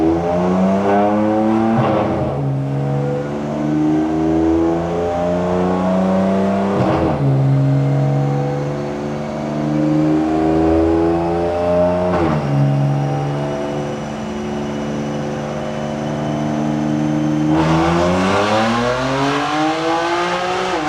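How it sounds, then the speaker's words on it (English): A Recoil Racing BMW F82 M4 roars through repeated loud dyno pulls, its engine note climbing steadily in pitch before dropping back and climbing again, with no talking over it. "We're gonna go ahead and make a dyno pull and see what it makes."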